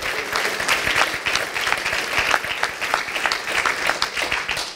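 A church congregation at a bilingual Spanish-English service applauds steadily, with dense clapping that holds at an even, strong level and only faint voices mixed in.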